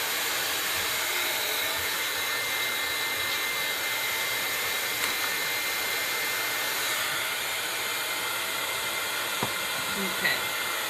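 A hair dryer runs steadily to dry a copper-coloured craft piece, a constant close whooshing hiss that holds for the full stretch with only faint clicks.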